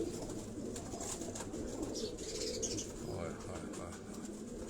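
Pigeons coo on a rooftop loft at a doctor's house, soft repeated coos and faint chirps at a distance over steady background noise, with a few wing flutters and no clear talk.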